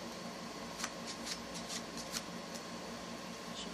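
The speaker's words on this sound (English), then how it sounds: "I'm gonna shuffle up the cards a little bit." A deck of playing cards being shuffled by hand during a card trick, a soft riffling texture with several crisp flicks and snaps spread across the few seconds, close and fairly quiet, with no talking.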